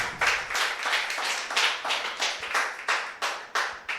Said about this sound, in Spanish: Dale un aplauso, hermano, a ese Dios todopoderoso